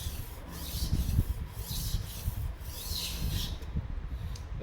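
A slightly chipped knife is drawn back and forth over a sharpening stone, giving a rhythmic gritty scraping of steel on stone in repeated strokes, close and moderately quiet.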